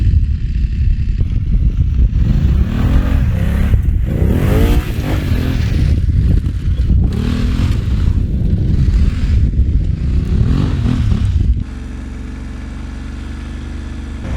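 A BMW F900GS motorcycle being ridden, with a loud, close engine drone that rises and falls through gear changes and then drops to a lower steady hum near the end.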